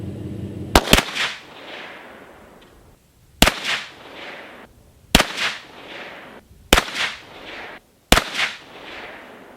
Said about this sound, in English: here's the 115 out of a Glock 17.